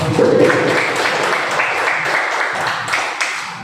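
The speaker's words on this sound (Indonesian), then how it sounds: "Beri tepuk tangan dulu." Audience applause at the close of a school presentation on positive culture, a steady dense patter of many hands clapping, loud and close throughout, with faint voices mixed beneath.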